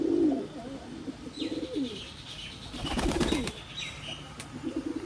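A pigeon in a loft coos over and over, throaty calls repeating close by with brief pauses. Faint wing flutters and chirps sound in the background.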